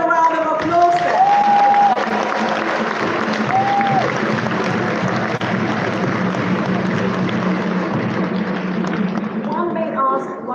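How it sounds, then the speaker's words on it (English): Crowd at a Ghana UK diaspora meeting applauding the president, a loud sustained wash of clapping and cheering with voices calling out over it at the start and end. "Let's give him another round of applause then."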